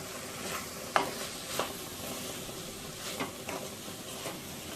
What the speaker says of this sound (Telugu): కారం, ఉప్పు వేసి కలుపుకోవాలి.